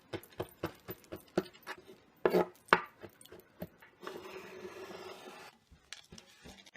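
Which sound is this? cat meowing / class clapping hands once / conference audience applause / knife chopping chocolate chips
knife chopping chocolate chips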